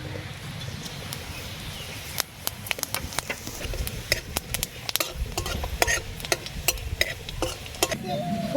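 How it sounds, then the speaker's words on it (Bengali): Black cumin and fennel seeds sizzle in a small amount of hot oil in a kadai, tempering for a grape chutney, a soft crackling hiss with sharp pops and stirring clicks that grow busier partway through. "তেল গরম হয়ে গেছে, আমরা ফোড়নে দিচ্ছি কালো জিরে আর মৌরি।"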